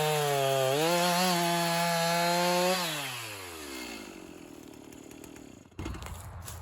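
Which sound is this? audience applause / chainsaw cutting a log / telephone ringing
chainsaw cutting a log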